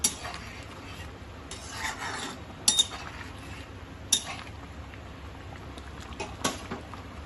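A prawn curry, chingri macher jhol, is stirred in a pot, giving faint, soft scraping and rubbing strokes with a few light metallic clinks over a quiet, low background.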